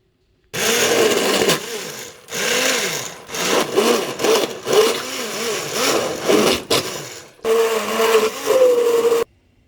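A kitchen blender purees spices in loud whirring bursts, pausing briefly between pulses, with the motor pitch rising and falling as the mixture churns smooth.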